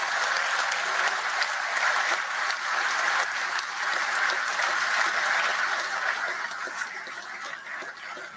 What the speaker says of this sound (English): Everyone should give themselves a round of applause on that one.